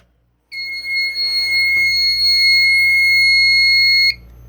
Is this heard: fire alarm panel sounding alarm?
yes